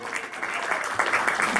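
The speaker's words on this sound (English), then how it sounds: "we've got to give a round of applause to them" Crowd applause at an outdoor beach gathering honoring a watershed society, a brief burst of clapping that swells slightly toward the end.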